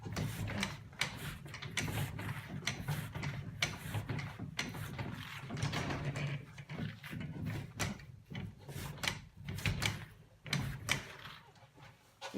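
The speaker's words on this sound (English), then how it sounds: "Garage door re-engaged." A garage door pushed along its track by hand gives off a steady run of rattling, scraping clatter with sharp knocks and bumps, fairly close and continuous, with no voices.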